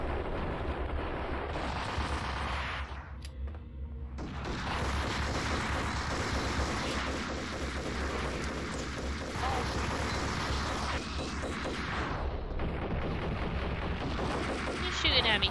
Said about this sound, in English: He's shooting at me from behind.